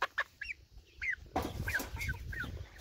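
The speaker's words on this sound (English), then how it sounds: "There's one of my chickens." A friendly backyard chicken clucks close by in a run of short, repeated calls, with some rustling and scratching noise underneath.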